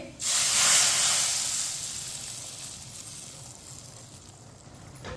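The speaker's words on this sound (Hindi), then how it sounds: "अब इसमें तड़का डालेंगे।" Hot tadka tempering hits a pot of mixed dal with a sudden loud sizzle that hisses and slowly fades over several seconds.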